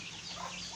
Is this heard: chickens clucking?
yes